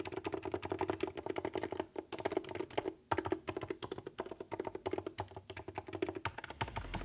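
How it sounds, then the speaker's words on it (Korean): Buttons on a QRD Maestro S3 hitbox, 25 mm and 30 mm with hot-swappable super silent mechanical switches, are pressed in quick, steady rapid-fire bursts, producing soft, muted clicks close to the microphone. "버튼은 25mm 버튼과 30mm 점프 버튼으로 핫스와퍼블 슈퍼 사일런트 QRD 메카니컬 스위치스를 사용해요."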